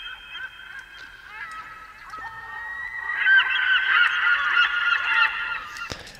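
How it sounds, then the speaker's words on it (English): A bird sound effect from a tropical house sample pack, layered into an electronic remix, gives loud honking, goose-like calls that swell into a dense overlapping chorus before cutting off abruptly. "The other thing I did there is that I put this birds effect."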